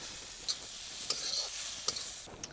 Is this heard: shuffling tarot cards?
no